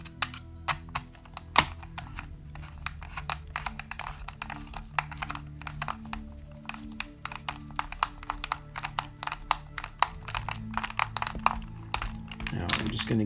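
10 millimeter screws being driven into aluminum RC car conversion parts on a CC-01 Jeep Wrangler chassis, heard as dense close clicking and ticking in quick irregular runs with small knocks, over a faint background hum.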